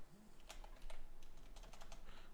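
Code being typed on a computer keyboard during a Python variables lesson, a steady run of quick, light key clicks in uneven bursts at close range, with no talking.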